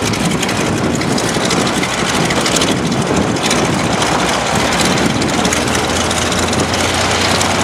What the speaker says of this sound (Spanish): Arranca el Sukhoi.